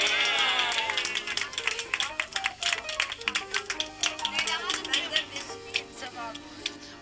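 Audience applause at a formal evening event honouring Ottoman dynasty descendants in 1993, many hands clapping in a busy patter with individual claps standing out, while a voice speaks over the clapping at moments.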